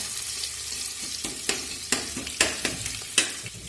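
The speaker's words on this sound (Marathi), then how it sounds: "कांदा असा छान भाजून घ्यायचा पहिल्यांदा." Onion frying in hot oil for masale bhat, a soft continuous sizzle punctuated by irregular spatula stirs and scrapes against the pan, close and clear.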